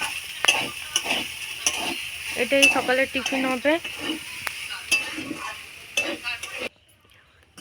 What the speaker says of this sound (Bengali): সকালে টিফিনের জন্য মা ভাত ভাজা করে দিচ্ছে।